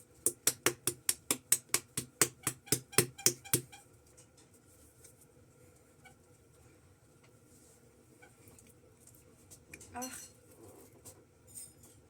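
Powder being mixed aggressively in a bowl, a rapid run of about a dozen loud rhythmic clinks followed by quieter scattered clatter and a single knock.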